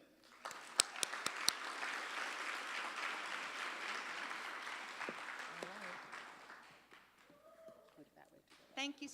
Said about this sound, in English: Please welcome and give a round of applause to two amazing dedicated faculty, Elizabeth and Jennifer.